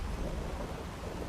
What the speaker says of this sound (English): I'm wishing I was inside again where it wasn't raining